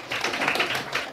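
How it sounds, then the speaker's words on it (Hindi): Applause from an audience of students and teachers at a coaching session, a dense patter of hand claps lasting about a second, moderately loud and steady, with no talk over it. "उनके लिए तालियां बजाइए"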